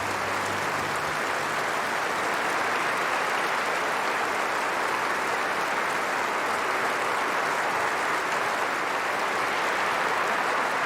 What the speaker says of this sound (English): They're paying tribute to Murray inside the stadium now with an applause.